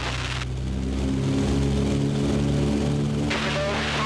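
Twin Wright R2600 radial engines of a B-25 bomber run up in a loud steady drone that swells as power comes on, a close, dense roar with no voices over it.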